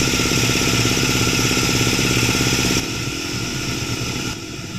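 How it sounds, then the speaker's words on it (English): A two-stage air compressor runs loud and close with a steady pulsing mechanical chug while working on a Galant VR-4. The tone drops and thins partway through as the load changes. "These are all the right sounds for a two-stage compressor that functions properly to make"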